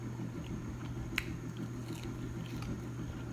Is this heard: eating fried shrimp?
yes